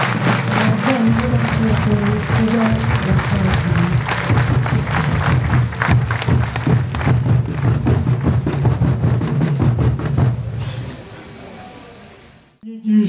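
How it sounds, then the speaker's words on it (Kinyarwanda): A church congregation at a priestly ordination breaks into sustained applause with ululation and drumming, a dense continuous crowd roar that fades out near the end. "Dushimiye Imana amashyi menshi n'impundu n'ingoma."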